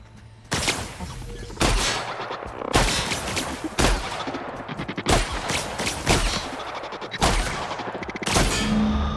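Heavy shots from a high damage weapon in the video game Outer Worlds, about six loud blasts spaced roughly a second apart, each followed by a crackling tail.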